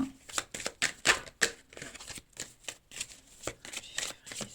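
Tarot cards being shuffled by hand, a quick series of soft close riffling slaps and flicks in an uneven rhythm, fairly quiet and heard without talk.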